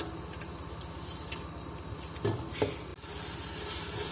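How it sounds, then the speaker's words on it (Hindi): Spice masala fries in oil for kadhi pakora, a low steady sizzle with faint stirring scrapes that swells into a louder, brighter hiss for the last second or so, with no voices. "तो इसको अच्छी तरह भूनेंगे तकरीबन 5 से 6 मिनट"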